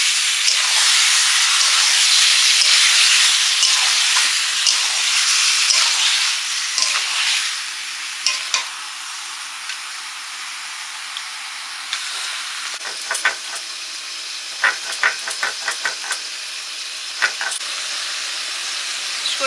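Chicken meat for a coriander chicken dish sizzles in a hot pan, a loud steady hiss that eases after several seconds into a softer frying crackle with scattered pops.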